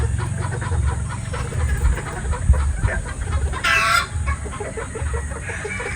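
Pure Boston Roundhead chickens, including pullets and brood stags, cluck and crow at a farm. Repeated nearby clucks mix with a rooster's crow, and a sharp, bright call stands out near the end. No voices are heard.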